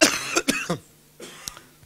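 Several close, harsh coughs burst out in a quick cluster, followed by a quieter cough and a short throat clear after a pause.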